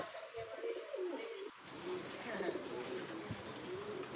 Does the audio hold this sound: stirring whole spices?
no